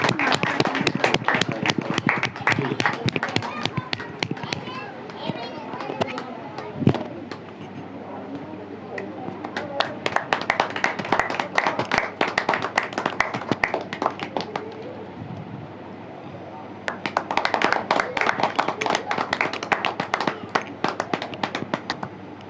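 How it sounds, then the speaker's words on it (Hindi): An audience claps at a Bhandara and Ramayan gathering in a steady run of dense, fairly loud applause that eases in the middle and swells again toward the end. "ताली बजाओ।"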